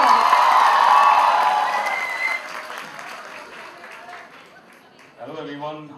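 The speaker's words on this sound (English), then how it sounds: "Please welcome him with a big round of applause." Audience applause and cheering at a university felicitation ceremony in Mumbai, loud and sustained at first, then fading into scattered claps and crowd murmur before a voice starts speaking near the end.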